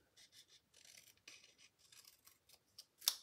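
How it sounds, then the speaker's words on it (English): Metal snips cut through copper clay in a quick series of faint, dry snipping and scraping sounds, ending with one sharper clip, close by and alone. "now the tip of my snips, I'm gonna have it point right toward that corner."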